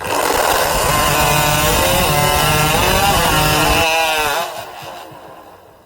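A high-revving competition chainsaw roars through timber at a woodchopping championship event, loud and sustained for about four seconds before the engine drops off and fades.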